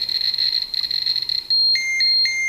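A cheap AliExpress Geiger counter, first a dense rapid stream of clicks as counts climb, then switching to a steady, shrill electronic alarm beeping in short repeated pulses, loud and close.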